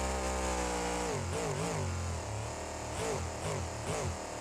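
A monster truck engine in the BeamNG.drive video game drones and revs, its pitch dipping and rising in waves, loud and steady with no talking.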